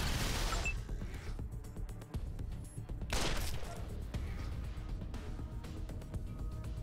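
Gunfire from the video game Wasteland 2, a dense burst of loud shots and crashing impacts running almost continuously with a brief lull, then a second heavy volley, all under a steady game backdrop.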